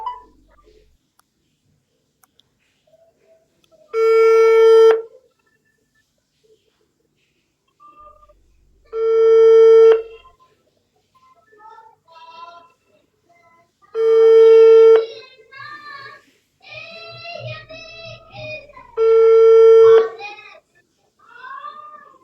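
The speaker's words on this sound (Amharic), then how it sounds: "ስልክ እየደወልኩ ነው።" A phone call rings out, with four long steady ringback tones spaced about five seconds apart and quiet voices murmuring in the gaps between them.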